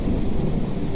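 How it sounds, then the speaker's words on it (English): Thunder rolls in the horror video game Neverending Nightmares, a deep continuous rumble mixed with steady rain hiss, loud and unbroken for about a second with no talk. "Oh, a little bit of thunder, how convenient."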